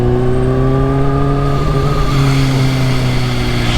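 A Kawasaki H2 motorcycle with 280 horsepower accelerating, a loud, close engine whose steady tone rises smoothly in pitch through the gears without a break, with no talking over it.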